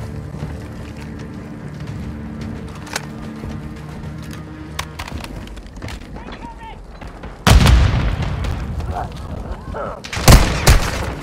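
Gunfire in Call of Duty Warzone on Rebirth Island: scattered distant shots over a low rumbling backdrop, then two loud, close bursts of firing late on, with voice lines mixed in.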